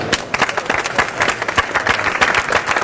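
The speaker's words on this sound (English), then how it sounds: "Give yourselves a round of applause" An audience breaks into brisk applause, a dense patter of many hands clapping close by and fairly loud, with no voices over it.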